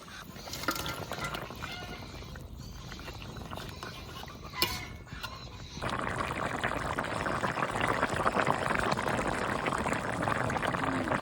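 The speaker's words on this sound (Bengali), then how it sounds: "তরকারির জল সুন্দর ফুটে গেছে" Curry liquid in a Bengali eggplant-and-hilsa fish dish simmering at a rolling boil in a pot, a steady close bubbling hiss that grows fuller and louder partway through and continues without a break.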